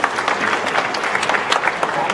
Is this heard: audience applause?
yes